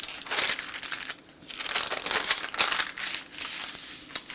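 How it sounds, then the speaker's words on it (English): Parchment paper holding leftover chocolate is folded up, giving close, loud crinkling bursts that come in several waves with short pauses between them. "I can just fold this right up in my parchment."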